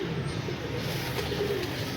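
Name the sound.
pigeons cooing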